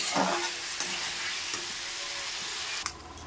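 Curry masala sizzles steadily while being sautéed and stirred in a pan, a dense continuous hiss with faint scraping, easing off near the end.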